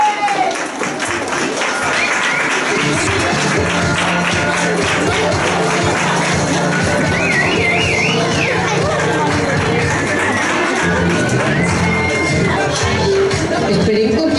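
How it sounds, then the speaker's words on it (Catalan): Audience applause for Maribel at a school farewell for a sixth-grade class, steady sustained clapping from a crowd throughout, with a voice speaking over it. "aquest fort aplaudiment per la Maribel"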